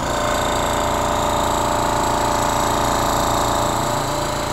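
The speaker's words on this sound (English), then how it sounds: "So let's go ahead and turn on the compressor and see how it works." A Mantus scuba diving air compressor runs continuously, a loud, steady mechanical drone with a rapid pulsing chug and a broad hiss, holding constant and close throughout, no voices.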